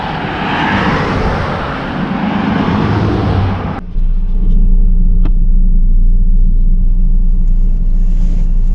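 A pickup truck nicknamed Blackie drives down a road on a Sunday, a loud, steady engine rumble with broadband road roar that suddenly drops to a quieter low drone inside the cab for the rest of the stretch.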